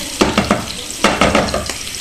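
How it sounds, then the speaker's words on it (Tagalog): Onion and garlic sautéing in hot oil for Filipino chicken afritada, a loud close sizzle broken by quick rhythmic scraping stirs in two short bursts, no speech. "So, gisa muna tayo ng sibuyas at bawang."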